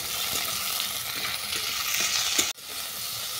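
Eggplant, potato, tomato and green chili fry in hot oil, a dense, steady sizzle with occasional stirring scrapes, close and loud, briefly cut off near the end before resuming.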